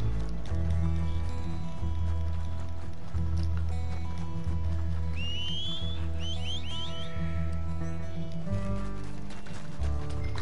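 Horse hooves in the video game Red Dead Redemption 2, rhythmic clip-clop steps mixed with steady game sound and a faint bird-like chirp, without talk.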